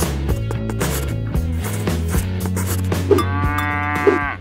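Cows moo loudly and close by, with several long, deep calls one after another and a higher-pitched bellow toward the end.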